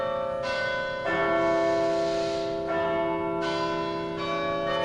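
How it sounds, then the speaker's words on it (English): Large cathedral bells in Chester, England ring out the hour in long, resonant chimes, each strike sustaining and overlapping as the tones hum and fade, loud and alone. "Chimes for 1 o'clock."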